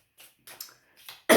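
A few short, scratchy coughs spaced apart, ending in one sudden, much louder cough up close.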